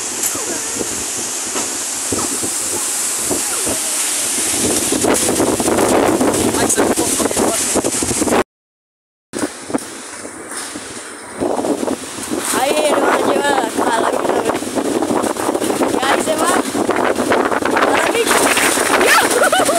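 Strong gale wind over Sauce lagoon, loud and gusty roaring buffeting the microphone, with a brief dropout midway and people talking underneath.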